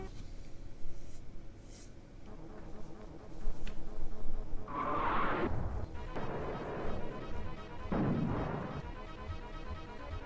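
Units firing at a flag tank in the SNES game Super Conflict: two noisy blasts stand out against a low electronic background, a shorter one first and a heavier one a few seconds later.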